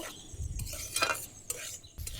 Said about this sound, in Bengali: চালের গুঁড়িটা একটু ভেজে নেব